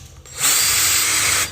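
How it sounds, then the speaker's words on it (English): A power drill pre-drills screw holes while corner bass traps are mounted in a home studio build, one loud continuous whir of about a second, close and alone. "Let me pre-drill for a second."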